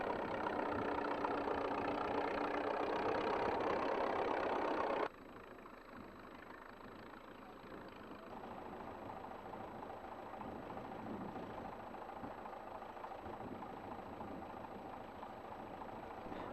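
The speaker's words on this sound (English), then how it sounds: "the sound of vintage tractors ploughing the heavy ground." Steady rumbling engines of vintage tractors ploughing heavy ground drone continuously, louder at first, then a lower, more distant chugging engine noise carries on without pause.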